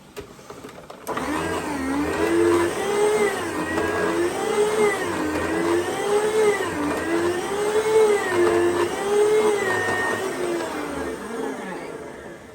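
An electric meat slicer cuts ham, a steady motor whine that starts abruptly, its pitch rising and falling in a regular rhythm with each pass of the blade over about eleven seconds.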